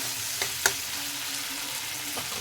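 Potatoes and tomatoes stirred together in a hot pan for a radish-greens chorchori, with a soft continuous sizzle and a few distinct scraping strokes.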